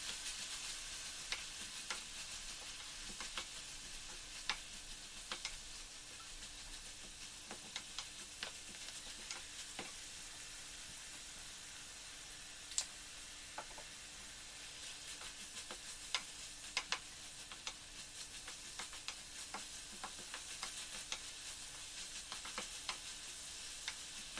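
Vegetables and spinach sautéing in olive oil in a pan, a steady soft sizzle with scattered crisp ticks and spatula clicks running throughout, no voices.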